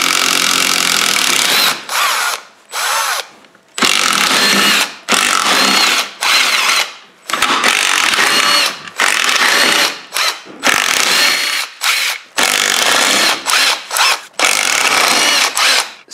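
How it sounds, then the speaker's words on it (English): Power drill or impact tool spinning out bolts that hold a Jeep transfer case together during a slip yoke eliminator install, loud bursts of whirring with short pauses between each bolt, close up, no talking. "Now we can take the bolts out that hold the case together"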